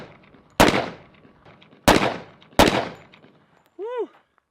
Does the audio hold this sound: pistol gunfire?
yes